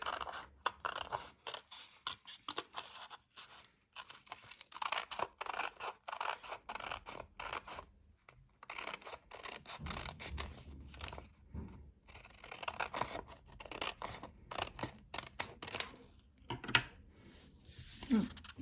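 Scissors snip through a paper face mask pattern in quick, faint, close cuts with rhythmic crunches and rustles of paper, spaced by brief gaps.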